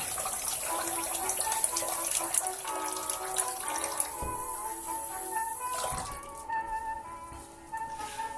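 Running water from a tap splashing steadily into a sink as the face is wetted during a vintage razor shave, loud and continuous before easing off and thinning out near the end.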